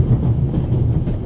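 Moving train in The Raven Remastered video game, a steady low rumbling rattle of carriages on the rails, close and continuous, with no voices over it.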